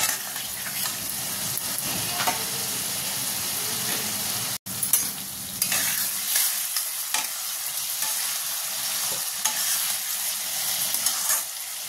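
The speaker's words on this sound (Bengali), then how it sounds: "দিয়ে মশলাগুলোকে ভালো করে কষিয়ে নিতে হবে।" Ground cumin, a little coriander powder and a pinch of Kashmiri chili powder fry in a pan, giving a continuous sizzle broken by scraping stirs, with one brief dropout midway.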